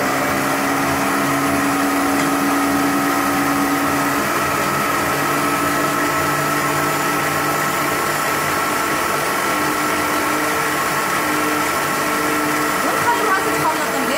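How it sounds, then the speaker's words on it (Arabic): An electric mixer whirs steadily while fresh cream is poured into cake batter for a Kinder Délice-style cake, a constant loud motor hum with a faint tonal whine that runs unbroken throughout. "هو يخلط وانا نضيف القشده الطريه."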